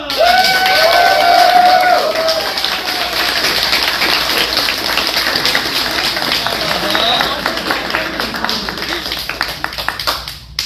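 A crowd applauds and cheers for a group of boys, loud sustained clapping and shouts filling the space for about ten seconds and thinning slightly toward the end.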